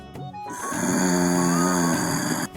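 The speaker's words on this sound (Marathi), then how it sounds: "ही बघ जनावर कशी घोरत्यात ती" A long, loud, droning snore rumbles steadily for about two seconds in a domestic TV comedy scene, sharply starting and stopping, with no talk over it.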